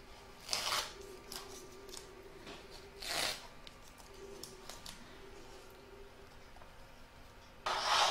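Scissors trim a fabric circle for an in-the-hoop embroidered table topper. Close, quiet snipping and rasping cuts come in a few separate bursts with pauses between them, and there are no voices.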